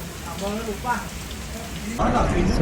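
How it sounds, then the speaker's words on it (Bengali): Rain pours down at a seaside spot in Bali while a boat waits for a deep-sea fishing trip, a steady broadband hiss that swells louder after about two seconds, with a faint voice underneath early on. "এর মাঝেই বৃষ্টি চলে আসলো ওফ বৃষ্টি আমার পিছুই ছাড়ে না"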